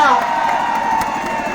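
Large crowd at a rally cheering and whooping for cricketer Mohammed Shami, a dense continuous roar with high shouts rising at the start, no distinct speech.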